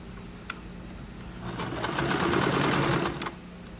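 A sewing machine stitches a shirt collar, starting with a single click, then a run of rapid, even needle strokes for about two seconds before stopping with another click, close and clear with no talk.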